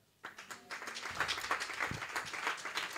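A church congregation bursts into applause and cheering after a quiet start, dense clapping with raised voices carrying on steadily throughout.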